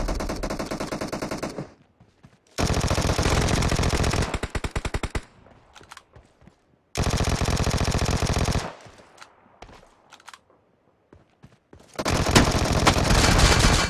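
Vector submachine gun fire in PUBG Mobile team deathmatch: loud, rapid full-auto bursts of two to three seconds each, separated by short pauses with scattered distant shots.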